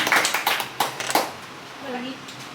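A small audience at a grape ambassador award ceremony gives a brief round of clapping, a few sharp, separate claps close by that quickly fade, followed by a short bit of speech.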